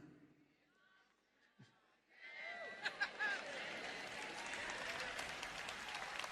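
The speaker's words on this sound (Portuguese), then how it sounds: "não importa quanto você bata palmas e aplauda a minha mensagem hoje" Audience applause at a Joyce Meyer Portuguese-dubbed sermon: after a quiet stretch with faint talk, broad sustained clapping swells in and continues loudly to the end.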